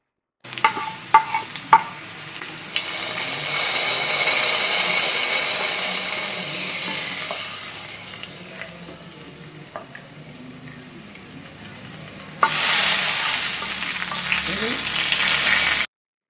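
A hot tempering of small shallots, dried red chillies and curry leaves is poured into moru curry. A few clinks come first, then a loud rising sizzle that fades to a low hiss and flares loudly again near the end.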